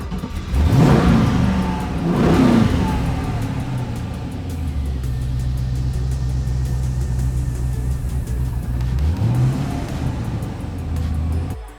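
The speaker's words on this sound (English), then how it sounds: "So now we're going to go ahead and fire the car up." A Ferrari P3/4 replica race car, built as a 1966-style film car, fires up with two sharp revving bursts, then settles into a loud, steady idle before a final rising rev, close by with no talking.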